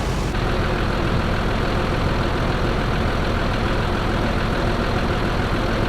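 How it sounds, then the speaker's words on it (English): The engine of a roughly 60-year-old Diamond Reo 6x6 recovery truck runs at a steady idle, a loud, continuous low rumble with no break and no talking. "It's certainly a nice running engine."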